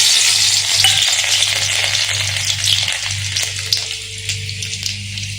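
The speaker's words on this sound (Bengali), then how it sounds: "এই যে রসুন, শুকনো লঙ্কা এখন আমি এই তেলের পরে দিয়ে দেবো।" Garlic and dried red chillies sizzle in hot oil in a home Bengali kitchen, a dense, steady crackling hiss with a low hum underneath that runs continuously at close range.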